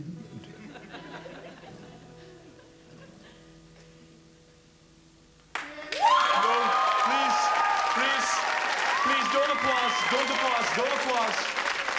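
Studio audience applause erupts suddenly midway through a British sketch comedy show, dense steady clapping following a quieter stretch of background tones, with a faint chuckle mixed in.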